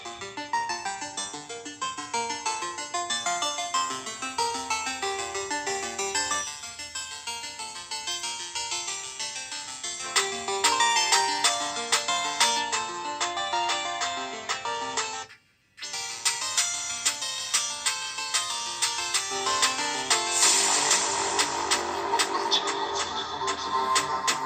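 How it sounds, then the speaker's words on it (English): Music sample playing through the stereo speakers of a Samsung Galaxy S9+ smartphone, a busy bright track with a steady beat heard up close, briefly cutting out once before resuming. "let me just play you a little sample really quickly so you can see what the speakers sound like"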